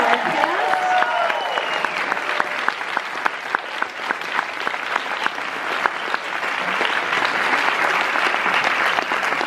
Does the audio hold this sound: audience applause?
yes